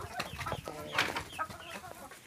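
Chickens cluck in a steady, fairly close stream of short, overlapping calls, with one louder squawk in the middle and no talking.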